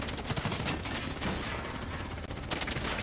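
Dense, sustained automatic gunfire in the Black Ops 3 video game, with rapid overlapping bursts filling the whole stretch at a constant, loud level.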